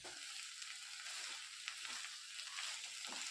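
Chicken pieces fry in masala over a high flame, giving a steady, faint hiss and sizzle with soft stirring scrapes throughout, no voices.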